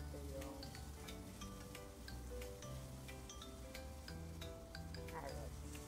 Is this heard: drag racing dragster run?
no